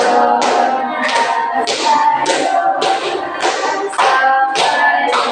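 Steady rhythmic hand claps keep time with a sung melody, each clap sharp and bright, repeating evenly about every half second throughout.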